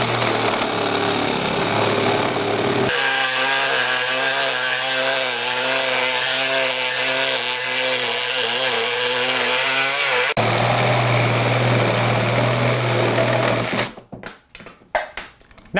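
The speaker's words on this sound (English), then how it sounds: "we'll go ahead and line it up and see if the saw can make it through it" Ryobi P516 18V ONE+ reciprocating saw cutting through deck lumber, a loud, steady buzzing drone close up with a shift in tone partway through the cut, ending in a few clattering knocks.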